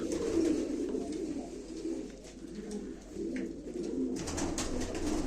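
Pigeons at a live pigeon auction coo repeatedly in low, throaty rolling calls, close by, with soft rustling and faint background noise between the coos.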